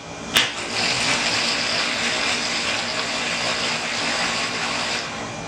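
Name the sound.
blender mixing Dutch baby batter with flour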